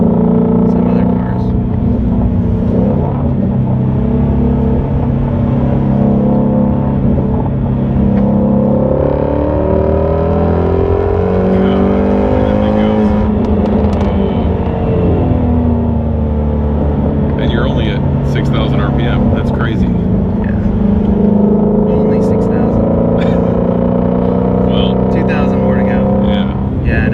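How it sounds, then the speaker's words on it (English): A Ford Mustang GT350's engine runs continuously as it is driven with heel-toe downshifts, loud revs rising and falling with quick throttle blips, while people talk over it throughout. "this thing is so easy to heel-toe downshift"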